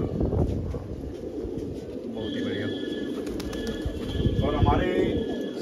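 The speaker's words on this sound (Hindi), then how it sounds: "सदर साहब ने 600 कबूतर निकाल रखे हैं, हैदराबादी भाई दानिश ने" Several of the roughly 600 pigeons kept by a Delhi pigeon fancier coo in a low, steady murmur, mixed with outdoor background noise and faint chirps.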